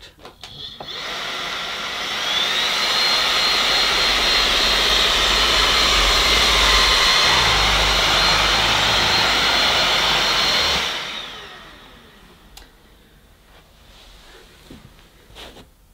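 A Bosch Unlimited Serie 6 Pro Animal cordless vacuum on turbo mode runs as a loud, steady high-pitched whine for about nine seconds, then winds down and stops, leaving quiet room noise.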